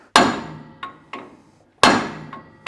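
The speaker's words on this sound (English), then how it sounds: "you'll notice I'm using a brass hammer" A brass hammer strikes a brass drift on a Toyota LandCruiser Hilux rear axle bearing, sharp metallic strikes up close, two heavy blows each followed by lighter taps, with a bright ringing tail after each hit.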